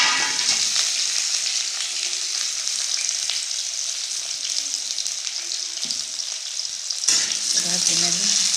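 Cumin, chili and onion sizzle and fry steadily in hot oil for water spinach, a loud continuous crackle with occasional stirring scrapes, brief quieter dips and a renewed burst near the end.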